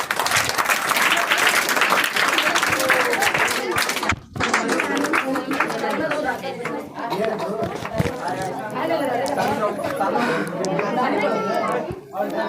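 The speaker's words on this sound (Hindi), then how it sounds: "चलिए प्रदीप सर के लिए जोरदार ताली बजाइएगा एक बार" Audience at a Teacher's Day celebration in a coaching center breaks into applause mixed with loud chatter and voices, a dense steady wash of clapping with brief dips, fairly close and busy throughout.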